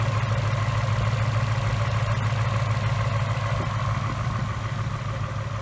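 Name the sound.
2018 Mustang GT 5.0 engine idling, fuel injectors ticking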